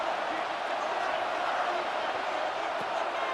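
Stadium crowd in the Madden 26 football game, Cowboys versus Panthers late in a tied game: a steady, broad roar of fans at moderate level, continuous and unbroken throughout.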